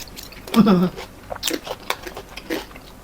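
Crunchy Chinese greens (bok choy in oyster sauce with shiitake mushrooms) eaten with crispy pork, heard as close, crisp bites and chewing crunches in short bursts, with faint mouth noises between.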